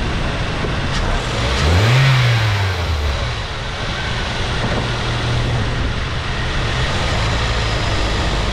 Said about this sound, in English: Let's give it some throttles and